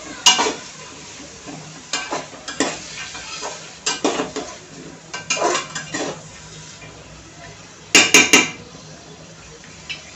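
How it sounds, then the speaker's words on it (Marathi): Cauliflower and soaked chickpeas sautéed with spices in oil, with a light sizzle under repeated clattering scrapes of a metal spoon against the pan, including a quick burst of knocks near the end. "परतून घ्यायची छान, फ्लॉवर आणि भिजवलेले हरभरे।"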